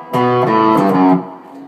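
Distorted electric guitar plays the closing phrase of a piece, a loud, sustained chordal run of about a second that then fades, heard alone.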